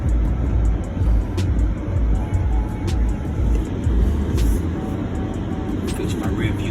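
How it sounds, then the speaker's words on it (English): A 2021 Dodge Durango R/T drives along with a steady low engine and road rumble heard from inside the cabin, with a person talking over it and scattered clicks and knocks. "Let's go for a drive."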